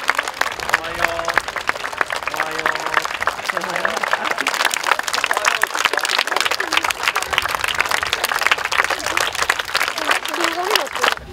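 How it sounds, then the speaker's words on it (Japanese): Dense, steady applause from a crowd of youth football school students welcoming Vissel Kobe players at a fan event, continuous at an even level throughout, with some voices mixed into the clapping. "拍手でね。"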